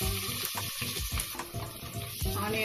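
Thinly sliced onions sautéing in oil for a vegetable biryani, with soft sizzling and occasional stirring scrapes and watery clatter, close and fairly quiet, no talking.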